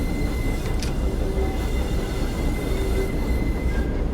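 A heavy freight train hauled by a Class 60 locomotive rolls and brakes in Train Simulator 2015, with a steady loud rumble, a faint high whine and occasional light squeals throughout.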